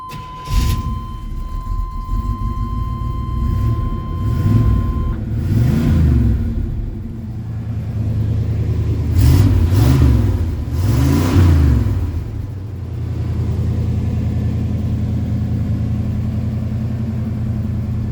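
A 1978 Camaro Z28 V8 fires up, then revs hard in several rising and falling bursts before settling into a steady rumbling idle, loud and close with no talking.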